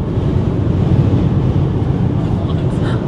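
Strong wind at Banff in winter buffets the microphone with a loud, continuous low roar and rumble that swells and eases slightly, with no clear voices.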